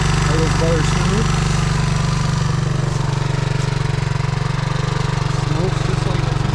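A Honda 185S three-wheeler engine idles smoothly and loudly with an even, low thumping rhythm throughout. A faint rattle and a brief dip in revs come near the middle.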